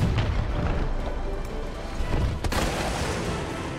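Heavy booming blasts from a Magnum revolver in Resident Evil 3 land as dense low-end impacts over a rumbling game soundscape, with one sharp shot standing out midway through.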